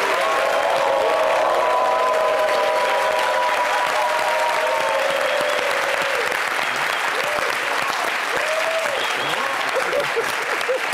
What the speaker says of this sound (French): Je voudrais demander à tout le monde d'applaudir très fort.